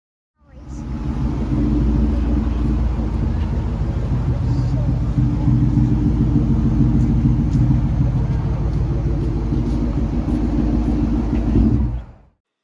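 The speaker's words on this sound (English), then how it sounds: "So my friend showed up with his mineral gray Terminator Cobra." A mineral gray 2003 Mustang Cobra Terminator idles nearby with a deep, steady supercharged engine rumble, rising in after a brief pause and holding loud and even before cutting off abruptly.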